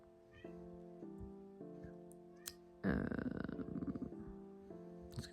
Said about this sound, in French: Est-ce que vous entendiez la poupette petite qui fait que de miauler parce que je l'ai enfermée dehors hier soir?